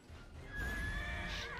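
A horse in the Neverwinter video game lets out a bright, clear neigh over soft background game ambience and hoof sounds, one whinny rising then falling.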